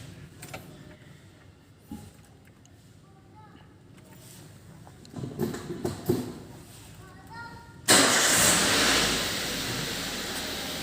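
A car engine cranks and catches during an engine management system service check, a loud burst of broadband roar that settles into a steady idle after a quieter stretch of faint clicks and movement.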